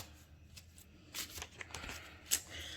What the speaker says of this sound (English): I feel an energy here as I shuffle your next 3 cards.